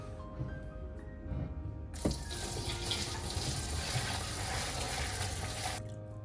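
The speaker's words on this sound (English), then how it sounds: "I'm gonna strain it into this big ass bowl." Strained beef pho broth pours into a large bowl in a steady, loud liquid rush lasting several seconds, starting abruptly and stopping just as suddenly, with no talking.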